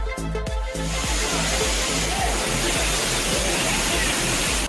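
Courtallam main waterfall in Tenkasi district pours down in a steady, dense roar of rushing water that fills the whole clip, loud and close, with a few brief low thumps early on.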